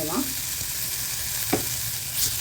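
Grated coconut roasting in a hot pan for stem chutney, a steady close sizzle with a few brief scraping stirs, no voices.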